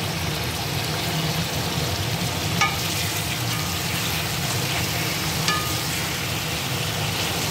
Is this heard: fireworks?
no